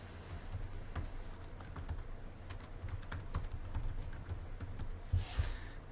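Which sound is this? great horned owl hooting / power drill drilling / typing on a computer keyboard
typing on a computer keyboard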